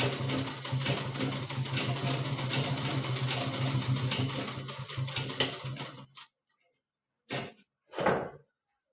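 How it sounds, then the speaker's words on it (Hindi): A sewing machine stitches a fabric tote bag in one continuous, close, fast rattling run, then stops, followed by a few brief handling knocks and rustles. "इस पे सिलाई लगा लेनी है।"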